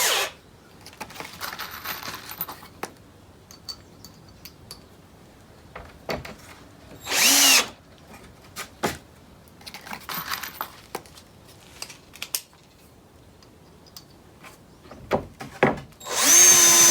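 Power drill driving screws into a scrap-lumber telescope shipping box, heard as a few short loud bursts at about 7 and 16 seconds, separated by quieter handling and knocks.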